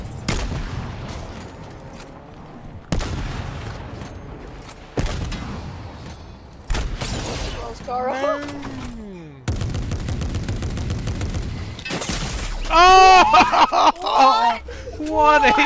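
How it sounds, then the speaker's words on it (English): Gunfire in Fortnite, sharp single shots and short bursts at irregular intervals, some loud and close, interleaved with game effects and a player talking and laughing over the action. "He's shooting me."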